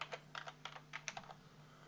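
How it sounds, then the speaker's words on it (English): Typing on a computer keyboard while entering a list of city names into a LibreOffice Calc spreadsheet, a run of quick, close, clicky keystrokes in short bursts with brief pauses and no voice. "Now you can actually select a list, but I'm just going to type this one."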